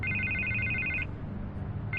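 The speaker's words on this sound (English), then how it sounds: "I can't get the phone to stop ringing." A telephone rings in the Batman Telltale Series video game, its bright electronic trill sounding for about a second, pausing, then starting again over a low, steady background rumble.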